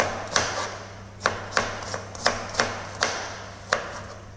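A knife chops onion on a board, probably for dal makhni and baingan bharta: about nine sharp, evenly spaced chops over a low steady hum, close and clear with no talk.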